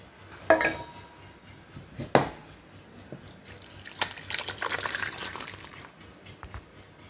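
Cooked mutton curry is moved into a clay pot, with a few sharp clinks of utensil against pot, then a wet, scraping pour of sloshing curry, close and moderately quiet.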